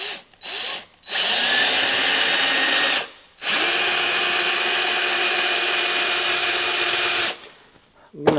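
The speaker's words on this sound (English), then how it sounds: "Now let's just see how this drills." A power drill fitted with a tap bit whines loud and close in two sustained runs, a short burst followed by a longer steady stretch of about four seconds, with quiet gaps between and a faint clatter at the end.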